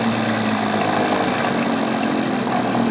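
A Sun SDT engine on a test run hums steadily at a low, even idle, close and continuous throughout, with no voices.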